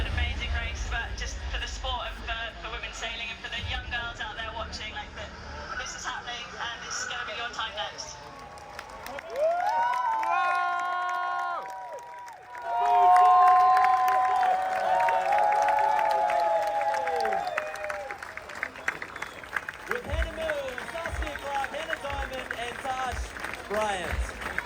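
Spectators out on boats on the water cheer an America's Cup crew home, a loose crowd of shouts and whoops mixed with boat horns, some near and some farther off, with people talking throughout.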